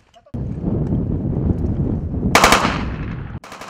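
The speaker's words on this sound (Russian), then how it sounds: "Стрельба – отвлекающий маневр." Rapid automatic gunfire rattles in a sustained burst during a special forces hostage rescue, loud and close, with a brief pause before another volley.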